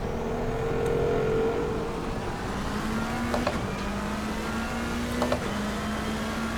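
A Lamborghini race car in the Assetto Corsa Competizione racing game, driven in rain practice, whines with a steady engine drone as it closes in, with the pitch climbing and shifting while another car's engine hums alongside.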